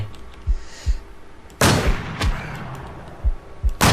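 Gunshots in the video game Zylfelia: Infestation: several sharp, loud cracks at uneven intervals, some short thuds and longer bursts, with quieter shots between them.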